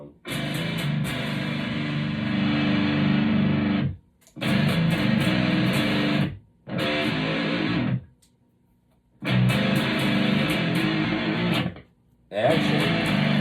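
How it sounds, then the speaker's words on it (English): Electric guitar played through a Boss DS-1 distortion pedal with the distortion turned all the way up, tone rolled back and level at maximum. It comes in loud, thick bursts of chords separated by short silences. "I'm using the old Boss here, DS1, for my distortion"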